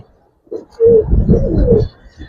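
Pigeons of the Giribaz and coloring breeds give a close, loud, low throaty coo that rolls on for about a second after a brief soft grunt, with no talking over it.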